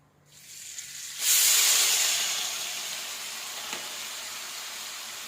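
Onion paste and chillies hit hot oil in a pan with a sudden loud hiss that settles into a steady, fading sizzle, close and without talk.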